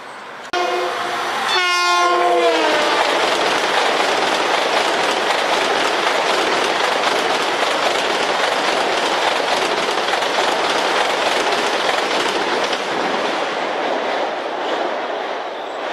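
A Long Island Rail Road train, number 605 out of Port Jefferson, blasts a loud multi-tone horn near the start and then roars past close by, with a sustained rumble and rhythmic wheel clatter throughout.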